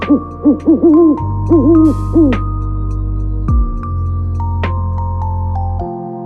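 An owl hoots in a quick series of short, bright calls over a steady, sustained musical backing, loud and close, with no speech.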